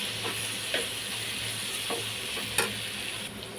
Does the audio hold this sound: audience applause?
no